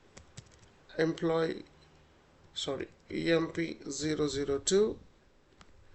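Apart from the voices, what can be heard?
typing on a computer keyboard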